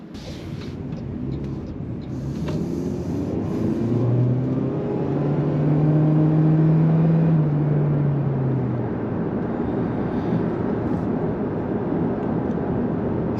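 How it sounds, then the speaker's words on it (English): A 2024 Toyota Prius Limited hybrid engine runs during a test drive, a steady low cabin drone with a rising then fading tonal hum in the middle, road noise underneath and no talk. "you hear the engine, you don't hear the engine, and the engine is quite loud"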